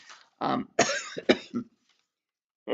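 Several rough throat bursts, a coughing and throat-clearing fit, close and fairly loud, in short clusters with pauses between.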